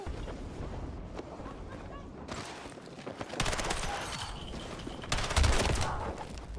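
Unsuppressed CZ gunfire in the video game Battlefield 6 comes in dense, rapid bursts mixed with distant explosions and battle noise, growing louder in the second half.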